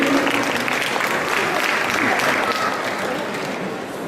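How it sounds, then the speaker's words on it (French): A crowd applauds loudly and steadily at a cosplay parade during a Japan convention, a dense, sustained wall of clapping with crowd murmur mixed in. "Donc je vous demande d'applaudir bien fort."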